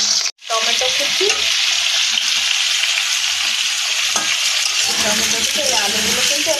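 Chopped tomato and small pre-fried potatoes sizzle loudly and steadily in a pan, briefly cut off near the start, with scraping stirs and faint clinks over the hiss.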